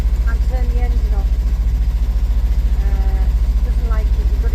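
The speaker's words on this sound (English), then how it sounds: "You've got to keep the engine on for some reason" A boat's engine idles steadily at night in the English Channel shipping lanes, a loud continuous low throb with a fast, regular pulse throughout, while people talk over it.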